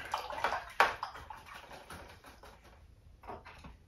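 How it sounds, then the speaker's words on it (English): A paintbrush being rinsed in a water container during acrylic flower painting: brisk splashing and sloshing with a sharp knock near the start, then softer swishing, a brief flurry again at the end, with no talk. "Okay, I'm going to rinse my brush out."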